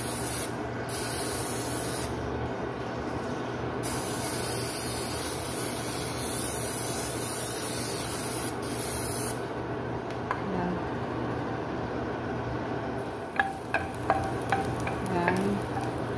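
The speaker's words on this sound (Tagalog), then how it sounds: "Para pang natin gisa sa corned beef at saka sa bawang." Garlic sautéing in canola oil, a loud, continuous close sizzle that hisses steadily throughout, with a few light scraping clicks from stirring toward the end.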